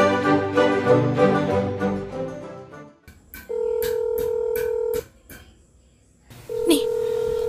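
A phone being dialed to call someone, with spoken voices at first, then a series of sharp keypad taps alongside a steady electronic tone that stops briefly and then returns.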